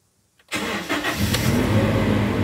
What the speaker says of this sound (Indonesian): Sekarang akan kita hidupkan mesinnya.